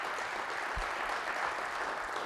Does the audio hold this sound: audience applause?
yes